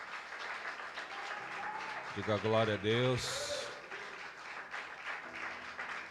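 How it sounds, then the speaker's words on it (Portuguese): Congregation clapping in church, a steady broadband patter running through the whole stretch, with a preacher's voice speaking and chanting over it and a brief swelling burst midway. "dê uma linda salva de palmas para o Senhor"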